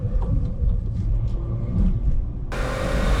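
A tuned manual BMW 340i with the B58 engine downshifts, a loud close rumbling engine note running throughout, rising abruptly into a broader, harsher roar near the end.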